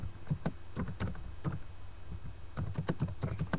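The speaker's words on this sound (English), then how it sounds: "I'm kind of typing something." Keystrokes on a computer keyboard clatter up close in quick bursts, with a pause in the middle before the typing picks up again.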